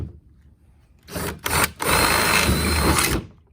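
A close electric drill spins up in short bursts, then runs steadily for over a second before winding down, drilling near a table edge while making a DIY beach fishing rod holder.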